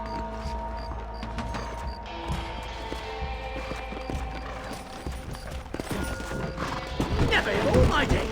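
Horses in the Red Dead Redemption video game clatter with hoofbeats and an occasional whinny, mixed into a busy scene of music and voices, growing louder and more hectic toward the end.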